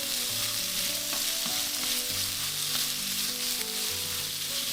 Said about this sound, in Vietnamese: Lúc này mình cho thịt vô. Mình sẽ xào cho thiệt nhanh luôn.